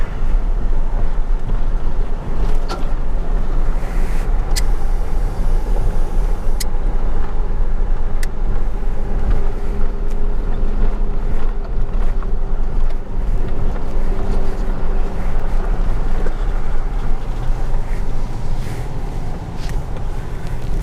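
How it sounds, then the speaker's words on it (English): Loud, constant desert wind roars against the microphone alongside a low vehicle rumble, buffeting without pause for the whole stretch. "Windy out there today."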